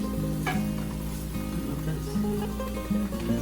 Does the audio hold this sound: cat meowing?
no